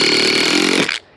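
A drill driver runs a self-tapping screw into wood with a loud, steady motor whine that cuts off sharply near the end, no talking.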